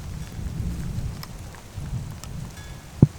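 Soft, steady rain patters in a continuous wash, with a single sharp knock near the end.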